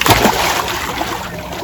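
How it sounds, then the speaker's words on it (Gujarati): A person dives into a village swimming hole: a splash followed by sloshing and churning, close and fairly loud, fading into a steady watery wash. "ડૂબકી કેવી રીતના મારતું એક બે અને ત્રણ"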